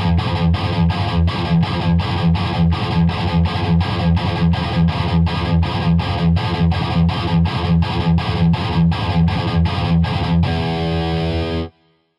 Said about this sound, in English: At a faster tempo, the forward gallop sounds like this.